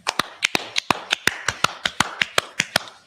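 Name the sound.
clapping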